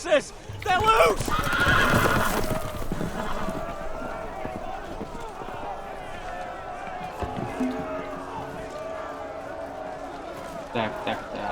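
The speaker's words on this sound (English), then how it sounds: "The horses! They're loose!" Horses neigh loudly up close in the Game of Thrones video game, followed by running hooves and commotion, fading into a quieter ambient bed with occasional thumps.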